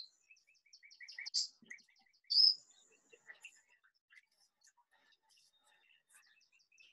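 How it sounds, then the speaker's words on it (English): A bird calls with faint, high, quick chirps in short repeating bursts, heard softly at a distance under quiet murmuring voices. "Look at that bird."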